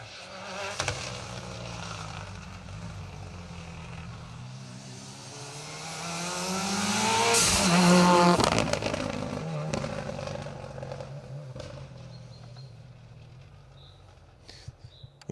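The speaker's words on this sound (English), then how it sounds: "The hiss from the dump valve and the burble from that familiar sounding Subaru engine." A Subaru Legacy H14-class rally car in tarmac spec approaches on an asphalt rally stage, its engine burble swelling to a loud pass with a hiss from the dump valve, then fading into the distance.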